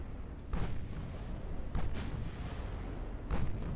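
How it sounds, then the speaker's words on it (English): Torpedoes strike warships in Ultimate Admiral: Dreadnoughts as several muffled, heavy booms land at intervals over a low rumbling background. "There's another torpedo hit."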